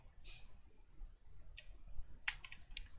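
Quiet computer keyboard typing, a few soft, irregular key clicks close by over a faint background hum with no voices.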